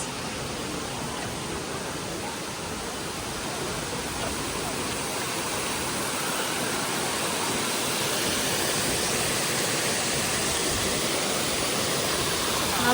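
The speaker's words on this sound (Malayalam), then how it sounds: "നമ്മളെത്തി ഗൈസ് വാട്ടർഫോളിലേക്ക്" Broad, steady roar of falling water at a waterfall near Saarburg, Germany, filling the scene continuously and loudly without breaks, with no one talking.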